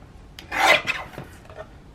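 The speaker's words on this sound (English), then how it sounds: "I can trim down the bottom and trim down the top a little." A blade trims a photo or paper edge for a junk journal, one short close scraping rasp lasting about half a second, followed by fainter rustling.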